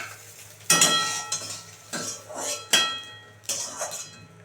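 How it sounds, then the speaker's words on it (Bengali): A fried omelette is cut in a pan, with a handful of sharp metallic scrapes and clinks of the utensil against the pan at irregular intervals, close and fairly clear. "এই দেখো এটা আমি কেটে নেব"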